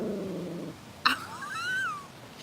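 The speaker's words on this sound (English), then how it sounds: "Oh, she's growling." A cat gives a low, rumbling growl, then breaks into a rising, wavering yowl, close and fairly quiet, with no talking.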